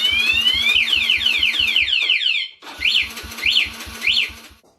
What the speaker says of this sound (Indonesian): Alarm akan teriak dan mesin motor tidak akan hidup